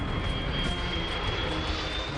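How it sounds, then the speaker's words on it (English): A low-flying plane on final approach to land, heard as a steady broadband engine roar with a thin high whine running through it, loud and unbroken throughout. "The plane comes in low."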